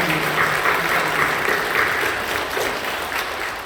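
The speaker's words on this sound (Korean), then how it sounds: "뜨겁게 감사의 박수를 드립니다" A Korean church congregation applauding in thanks at an anniversary service, dense sustained clapping from many people filling the room at steady volume.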